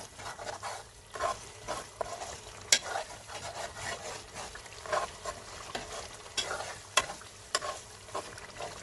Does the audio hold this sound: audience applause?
no